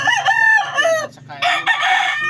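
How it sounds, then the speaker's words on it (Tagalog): A gamefowl hen of a champion fighting-cock bloodline clucks close by while a rooster crows loudly, the calls following each other in quick succession with no talk. "Ito siyang hawak ko nga manok ngayon."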